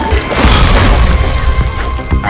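A loud booming explosion from the zombie game Zombie Night Terror, a heavy low-end blast with crashing debris that rumbles on for a couple of seconds before a sharper hit near the end.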